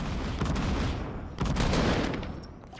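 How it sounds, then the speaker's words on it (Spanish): Grenades burst in a Fortnite squad firefight, a loud broadband blast at the start and a second heavier one about midway, each trailing into a dense rumbling wash of battle noise. "Y nos está aventando granadas."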